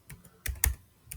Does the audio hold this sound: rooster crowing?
no